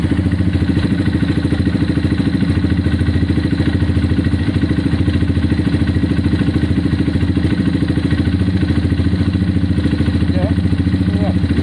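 A Honda CBF 125 motorcycle engine running after its first start-up, a loud, even single-cylinder chug that holds steady close by, with voices now and then over it.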